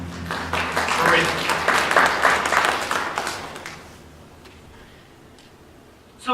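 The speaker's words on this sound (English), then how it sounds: "Give yourselves a round of applause." A church congregation applauds during a Sunday sermon, a dense, lively round of clapping that holds for about four seconds, then dies away into quiet room tone before a sudden sound at the very end.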